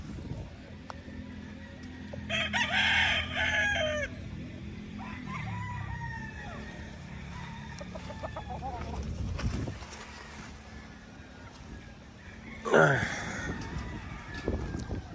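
Gamecock stags crow and cluck near someone speaking, with several short crowing calls breaking through over a low background murmur.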